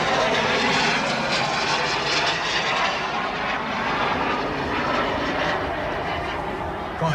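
A turbine-powered model jet flies at the LMA Elvington Airfield airshow, its engine a loud, continuous roaring whoosh that swells and fades slightly as it passes, with no talk over it.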